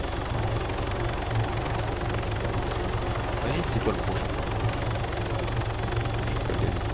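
Helicopter flying in a video game, a constant rhythmic rotor rumble that runs unbroken beneath a voice.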